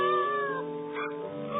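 The Cheshire Cat in a Peter Pan & The Pirates cartoon gives one loud, drawn-out meow that wavers in pitch and tails off, with nothing else heard.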